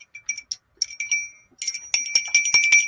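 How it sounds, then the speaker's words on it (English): A small bell is rung repeatedly in quick, bright strikes, sparse at first and then a rapid run of rings, close and loud with short ringing decays. "Let's ring Tank's bell."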